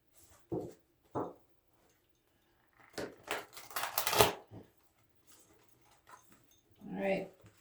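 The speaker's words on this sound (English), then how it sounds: "give it a little shuffle." Tarot cards being shuffled by hand at close range: a few short papery bursts, then a denser run of riffling and sliding card noise, with a brief rustle near the end.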